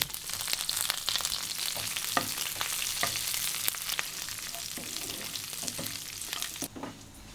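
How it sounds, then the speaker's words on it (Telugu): Cashews, green chili slivers, curry leaves and ginger crackle and sizzle steadily in hot oil as a tempering for pongal, with scattered sharp pops and a few stirring clinks, close and without talk. "తర్వాత ఓ చారెడు జీడిపప్పు, 4 పచ్చిమిరపకాయల చీలికలు, 2 కరివేపాకు రెల్లలు వేసి దోరగా వేపాలి."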